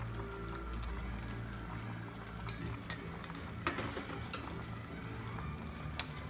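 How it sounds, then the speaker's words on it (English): Stir-fry vegetables with a cornstarch-thickened sauce stirred in a pan: scattered utensil clinks and scrapes against the cookware over a low, steady kitchen hum, with no talking. "And we're gonna stir it a little bit."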